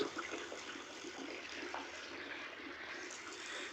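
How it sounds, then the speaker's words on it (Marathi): Water pours steadily into an empty household storage tank in a village, a continuous hissing rush of running water that holds level and close for the whole stretch, with no voices. "चला सोडलं पाणी. हौदात पाणीच नाही घरी, त्याच्यामुळे भरायचं होतं."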